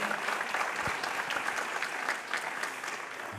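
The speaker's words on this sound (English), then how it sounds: "Let's give SCB TV a big round of applause as well." Steady audience applause at a school district awards event honoring a sponsor, a dense, even wash of clapping from a crowd that holds for several seconds with no speech over it.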